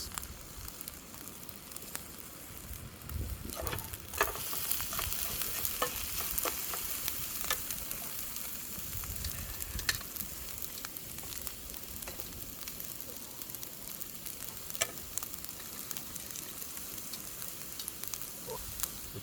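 Rice sizzling in a pan at a lakeside camp cooking setup, with a soft continuous fry hiss and scattered crackles and stirring scrapes throughout, fairly quiet and steady with no talking.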